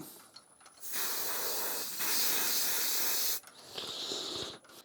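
Clear gloss lacquer sprayed from a can onto a piece turning slowly on a lathe: two long, loud, steady hissing bursts with a brief break between, then a shorter spurt before it cuts off.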